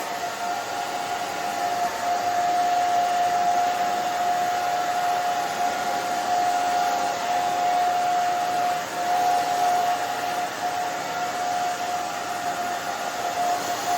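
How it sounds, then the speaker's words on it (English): A hair dryer blows continuously at close range while drying a haircut, a steady whooshing roar with a high whine running through it, no talking. "the blow dryer and moving that back and forth"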